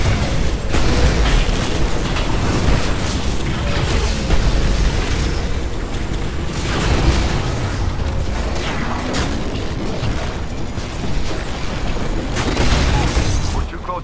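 Dense, sustained mechanical roar with repeated heavy booming blasts, Titanfall mech cannons winding up and firing nonstop, loud and close throughout.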